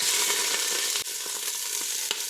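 Olive oil sizzles steadily in a hot stockpot being readied for turkey giblet stock, a dense continuous hiss with a few faint ticks and one brief dip midway, close and without talk.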